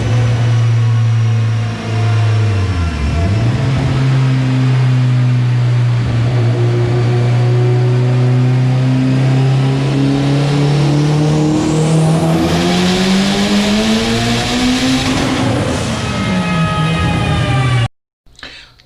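A Mitsubishi Evo X with Precision 6870 turbo, high-compression aluminum rods and a Mybec-adjusted boost setup revs hard on a dyno, its loud engine tone sweeping down, then climbing steadily through a long pull before cutting off abruptly near the end.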